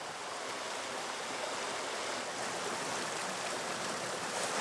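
The Isère river flows past in a broad, even rushing hiss, quiet and unbroken like distant whitewater, with nobody speaking.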